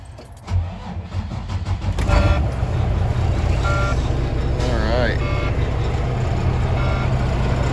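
A semi truck's diesel engine cranks over, catches and settles into a loud, steady idle nearby, with a few short tonal beeps near the start.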